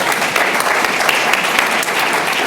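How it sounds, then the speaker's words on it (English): An audience gives a full round of applause at a panel event, dense and loud, sustained evenly from start to finish with no pause. "Give him a round of applause."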